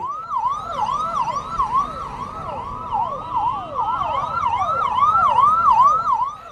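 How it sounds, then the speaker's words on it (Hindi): A police vehicle's siren wails as it carries Arvind Kejriwal to jail, a loud, close, rapidly rising and falling electronic hooter repeating without pause over faint road noise, with no talk. "केजरीवाल को जेल ले जाती पुलिसिया गाड़ी के हूटर की आवाज"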